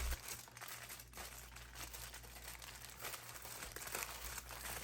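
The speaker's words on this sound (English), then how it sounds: "Next, wrap the package in aluminum foil." Aluminum foil crinkles and rustles as it is wrapped firmly around a seitan loaf in parchment, a soft, continuous crumpling close by with a low steady hum beneath.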